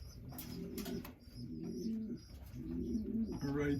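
South African pigeons coo in a loft, repeated soft low coos close by, layered with brief chirps and faint flutters of wings.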